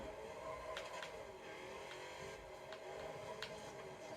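A race car's engine in Forza Motorsport 7, a wingless build spinning its rear wheels, drones steadily and loud with brief revving surges and no voices.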